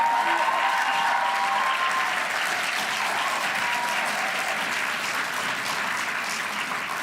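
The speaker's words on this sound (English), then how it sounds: "let's give them a round of applause." A round of applause for schoolchallenge winners at a monetary policy committee awards announcement, steady dense clapping from a sizable audience filling the room continuously without a break.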